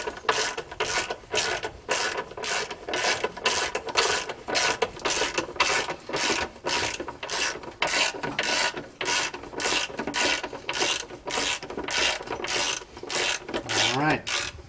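A jack lowers a vehicle axle with a steady series of ratcheting clicks, each stroke repeating at an even pace. The mechanical clatter is fairly close and carries on for about fifteen seconds with no one speaking.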